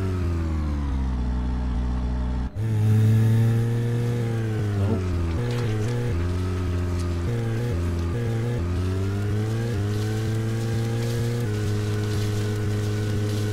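Car engine in the video game Deadly Premonition, revving and shifting pitch up and down as the car is driven, loud and continuous with no talk.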